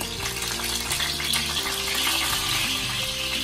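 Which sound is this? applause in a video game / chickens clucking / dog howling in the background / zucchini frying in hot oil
zucchini frying in hot oil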